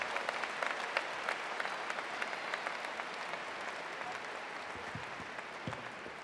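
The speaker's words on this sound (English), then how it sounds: "Let's give him another round of applause" Sustained audience applause at a university commencement ceremony, a broad even wash of many clapping hands from a large crowd, steady and unbroken throughout with no voices over it.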